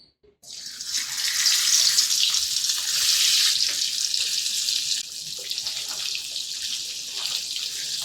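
Fish head dropped into hot oil in a pan, a sudden onset of loud, dense hissing that holds steady and then eases slightly, a close continuous frying roar with no talk.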